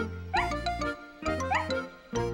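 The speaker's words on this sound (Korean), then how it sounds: "그저 꼬리를 흔들며 반갑게 짖을 뿐이었어요" A cartoon dog barks happily while wagging its tail, two bursts of bright, playful yips with tinkling accents, close and clear in a children's animated story.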